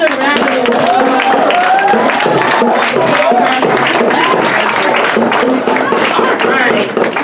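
Audience applause at a community institute's 40-year anniversary event, a steady roar of clapping and crowd noise lasting several seconds, with voices mixed in.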